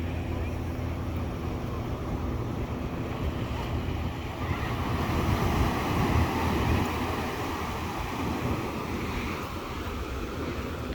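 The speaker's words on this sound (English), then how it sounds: "A set of waves right there." Ocean waves break and wash continuously along Santa Monica beach beside the pier, a broad roaring surf that swells slightly midway, mixed with wind buffeting the microphone.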